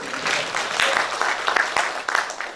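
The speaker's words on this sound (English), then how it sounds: "Clap for him also." An audience claps briefly at a university event, the scattered hand claps rising and falling over a couple of seconds with faint background voices.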